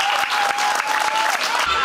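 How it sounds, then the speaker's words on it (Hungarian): Audience applause for a performing assistance dog at a stage show, brief dense clapping with a sustained tone running beneath it. "Szerintem megérdemel egy tapsot ez a kutya."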